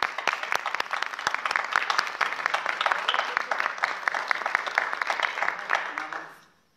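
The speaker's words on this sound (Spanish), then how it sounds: "Un aplauso para Daniel Fermani." Audience applause at a book fair in Mendoza, a dense crowd clapping steadily for several seconds before fading out at the end, with no voices over it.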